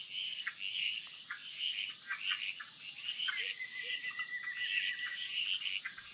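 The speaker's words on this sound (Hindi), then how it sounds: "लेकिन जब अंधेरा घिरता है तो शुरू होता है मेंढकों का राज।" Frogs calling at night in a humid tropical forest, a dense chorus of high chirps and trills with one sustained whistle-like call, steady and moderately distant, with no talking.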